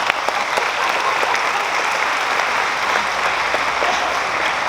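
Sustained, loud applause from a graduation ceremony audience honoring teachers and staff, dense even clapping filling the room throughout with no pauses.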